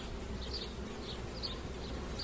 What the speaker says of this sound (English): And we have in here a lot of bees.